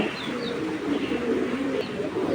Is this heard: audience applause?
no